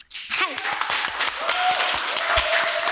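A studio audience claps and cheers to welcome a guest onto a talk show, a dense burst of applause with a voice speaking over it.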